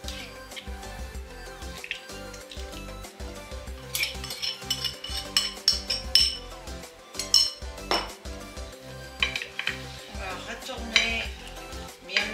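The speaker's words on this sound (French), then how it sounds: "Maintenant, on va verser les pommes de terre dans le plat qui va au four." Potatoes and a prepared sauce tipped into an oven dish for roast lamb, heard as repeated clinks, scrapes and knocks of utensils against the dish, close and uneven, with a soft sizzle underneath.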